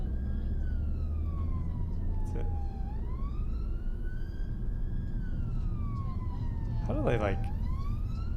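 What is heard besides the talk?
UK ambulance siren on motorway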